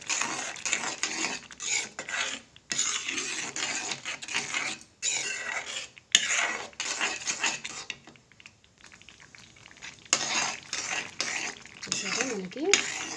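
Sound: stirring atukula kesari with cashews, raisins and ghee in pan

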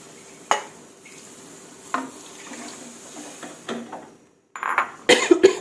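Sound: canned fish being added to a pan, then water

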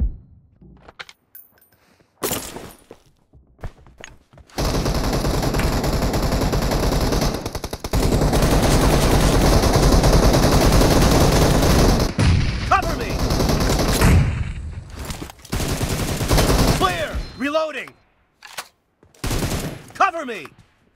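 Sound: gunfire in the video game PUBG

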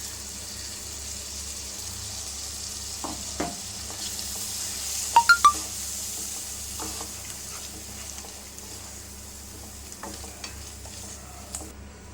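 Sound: ground masala paste sautéing in a pan

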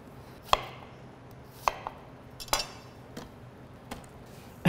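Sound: chopping fibrous garlic with a knife

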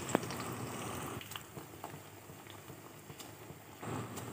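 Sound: chonga dough frying in hot oil

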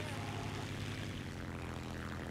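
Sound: propeller airplane engine in War Thunder video game

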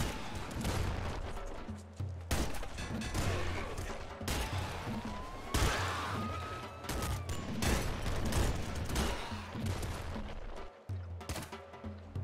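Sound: SMG gunfire in Nuclear Throne Ultra Mod video game

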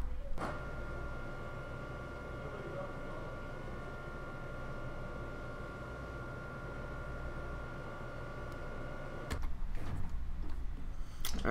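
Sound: MARC train doors closing in video game Train Simulator 2021

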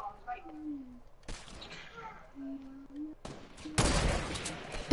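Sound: gunfire in an online shooter video game

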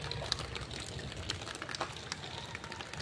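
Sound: heavy rain floodwater flowing into a house

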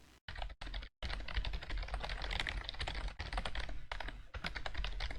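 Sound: membrane keyboard typing

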